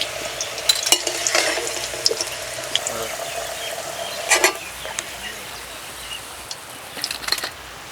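Potatoes fried in oil in a pan until reddish-brown, giving a steady close sizzle with some stirring and scraping, and soft talk over it.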